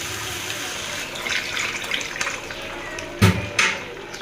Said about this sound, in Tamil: கொஞ்சம் தண்ணி விட்டுக்கலாம்.